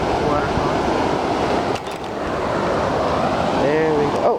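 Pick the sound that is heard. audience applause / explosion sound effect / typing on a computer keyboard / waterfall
waterfall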